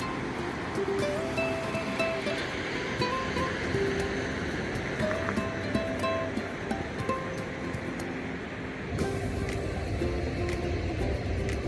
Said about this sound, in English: This is Sunset State Beach.